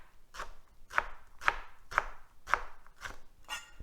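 Onion being finely chopped with a knife on a cutting board, about seven crisp, evenly spaced knocks roughly half a second apart, close and clear with no talking.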